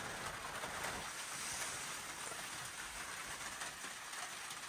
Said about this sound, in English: That rain hasn't stopped